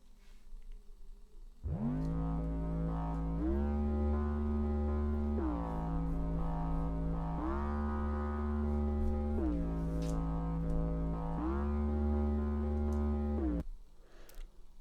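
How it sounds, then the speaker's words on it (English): A sustained sequence from Arturia's Buchla Easel synthesizer plugin, low, thick notes stepping up and down in a slow repeating pattern, with a bright, resonant edge. "This is the Bushla Easel 5 from Arturia, one of my favourite synth"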